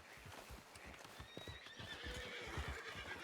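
Horses in a western-themed online roleplay video game whinny and neigh over steady clip-clopping hooves, fairly close and continuous for a few seconds.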